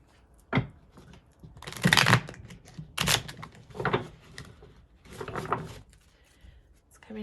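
A brand-new deck of tarot cards being shuffled by hand, giving several bursts of crisp riffling and flapping card noise with short pauses between them, close up and without talk.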